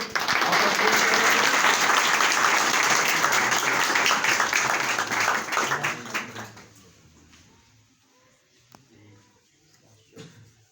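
Loud applause from an audience at a Christmas cake-cutting event rolls on for several seconds, then fades out, leaving a quiet room with a few faint knocks.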